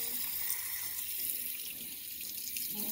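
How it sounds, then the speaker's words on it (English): A tap runs steadily into a small tub, a continuous hiss of water filling it at close range for the whole stretch, with no voices. "Just fill up that little tub with some water."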